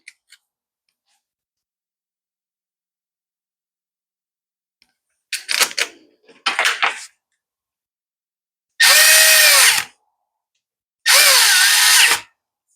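A power tool drives bolts back into an Echo string edger: two short bursts of drilling, then two longer, loud steady whirring runs of about a second and a half each, alone in a quiet workshop.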